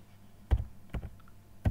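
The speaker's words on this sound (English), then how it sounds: "We'll type it" A few sharp clicks as an internal IP address is typed on a computer keyboard: three quiet separated keystroke taps in a short burst, no talking.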